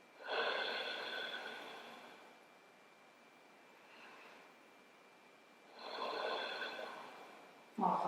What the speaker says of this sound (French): Inspirez, expirez profondément.